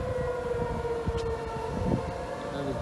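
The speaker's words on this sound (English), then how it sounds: "This is the first time I've ever heard the tornado sirens going off outside of a test." Tornado warning sirens in Chicago during an approaching storm, a steady, sustained wailing tone carrying over a wide area from a distance, mixed with low background rumble.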